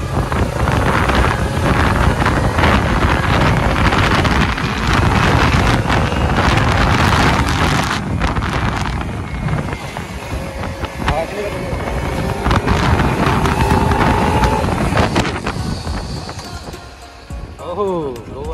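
A brand-new Kawasaki Ninja 300 motorcycle is ridden on a road, its engine droning steadily beneath heavy, continuous wind buffeting on the microphone that stays loud throughout.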